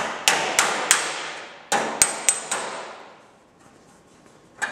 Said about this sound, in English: Just tap it in with my hammer and dolly.